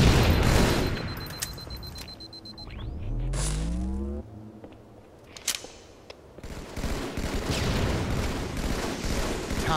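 Video game SMG fire rattles out in loud bursts, with heavy booms and a low descending whoosh mid-way, then further rapid shots near the end.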